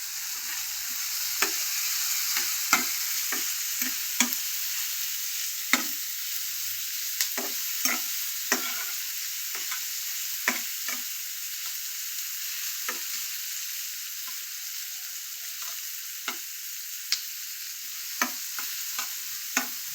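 Lumpia frying in a pan makes a steady, close sizzle, with a run of sharp clicks and scrapes from stirring scattered across it.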